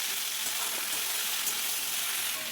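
Cauliflower stalks fry in a covered pan with salt for a mustard-paste chorchori, giving a steady, dense sizzle that holds evenly from start to finish with no voices.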